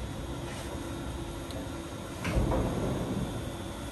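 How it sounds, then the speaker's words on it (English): The enclosure doors of a Doosan MV4020D CNC vertical machining center slide open, a soft rolling rumble with a sharper clunk partway through, heard close up over a steady machine hum without speech. "So I'm going to open up the doors here."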